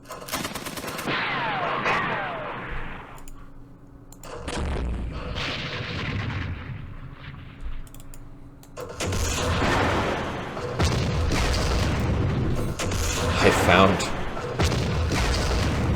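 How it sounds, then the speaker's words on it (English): Gunfire and artillery from the Vietnam war game Campaign Series Vietnam, Battle of Hue: steady bursts of shooting and booming blasts run throughout, loud and continuous with brief dips between volleys. "Let's do some firing at these guys."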